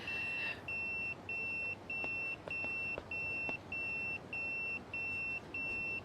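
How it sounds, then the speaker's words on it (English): A truck reversing beeper sounds a steady series of about nine evenly spaced electronic tones, clear and regular over faint background noise. "Hey guys, truck's backing up."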